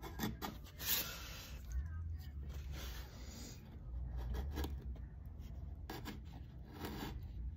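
Wood being carved by hand with a chisel, quiet scraping and rasping strokes repeating in short bursts, close up and soft with brief pauses between cuts.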